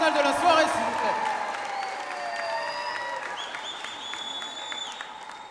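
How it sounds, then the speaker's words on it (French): Audience applause fills a Miss Wallis & Futuna 2020 gala hall, steady clapping over several seconds with a sustained tone and some voices underneath. "On applaudit Mylène pour sa récompense sur la plus belle tenue végétale de la soirée"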